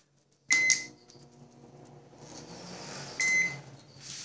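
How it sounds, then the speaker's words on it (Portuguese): A repaired microwave oven running normally: two sharp electronic beeps from its control panel, one near the start and one later, over a low steady hum from the running oven, with no voices. "Micro-ondas funcionando normalmente."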